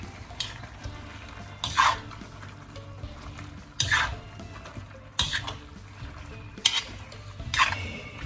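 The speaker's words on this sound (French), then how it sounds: "Et on mélange bien." Ingredients tossed and stirred in a wok with oyster sauce for chow gai pin: a steady sizzle and low hiss broken by several sharp metallic scrapes of the spatula against the pan at irregular intervals.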